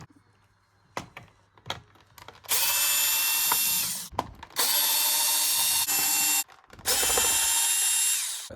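Power drill unscrewing four screws from a Dyson V11 high-torque carpet cleaner head, with three loud, close whirring bursts of a few seconds each, preceded by light clicks and handling knocks.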